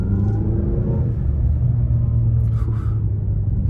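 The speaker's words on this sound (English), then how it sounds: "one more speed bump, we'll hit it a little faster than we should" A 2022 Mazda CX-9 Touring rolls over a speed bump a little faster than it should, giving a continuous low cabin rumble and road drone with a short muffled thump partway through.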